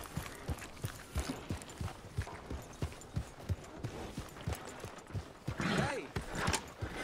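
Horse hooves clip-clopping in a steady walking rhythm in Red Dead Redemption 2, close and distinct, with a brief rustling scuffle near the end.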